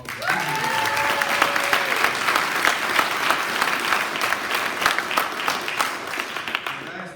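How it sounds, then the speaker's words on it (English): An audience at an upper school spring sports assembly claps steadily and densely for about seven seconds, a brief voice rising over the start of the applause. "Let's give him one more round of applause."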